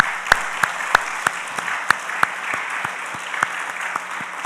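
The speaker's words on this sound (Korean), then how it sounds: "축복의 박수, 환영의 박수 하도록 하겠습니다" A church congregation claps in welcome for the children at a special Thanksgiving dawn service, a steady patter of many hands with sharper nearby claps standing out.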